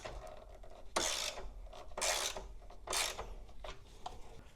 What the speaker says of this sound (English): So I have the 10mm deep socket here. And I'm just going to start to tighten it to see how it goes.